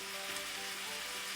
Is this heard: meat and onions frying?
yes